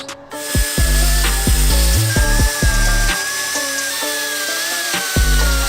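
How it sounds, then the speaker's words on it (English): A Dremel rotary tool grinds a curved metal surface on a Nissan 300ZX, a loud, high-pitched whine that stops and restarts in short bursts, close up with no talking. "I'm gonna come in with the Dremel, and we're gonna kind of do one of these"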